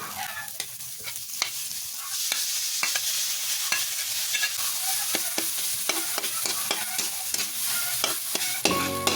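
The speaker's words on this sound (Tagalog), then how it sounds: "Ilalagay na natin yung ating main ingredients," Corned beef fries in a pan with finely ground pepper, a bright constant sizzle punctuated by frequent sharp scrapes and taps of a spatula as it is stirred, close up with no talk.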